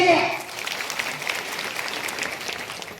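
Strong, dense applause from a crowd at a political victory rally in rural Maharashtra, steady broadband clapping over about three seconds after a brief louder start, with faint voices mixed in.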